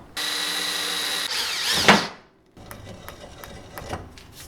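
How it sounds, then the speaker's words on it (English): A power drill spins up with a steady whine and bites into a center-punched 1/8-inch steel plate, the pitch dropping as it cuts before stopping, followed by light clattering handling noises. "We got our center punch, 1/8 inch piece of steel, whatever drill bit to fit this."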